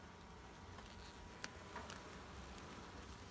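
Honey bees humming inside an open hive during a frame inspection, with brood and honey comb on the frames; a faint, steady buzz runs throughout, broken by a couple of soft ticks.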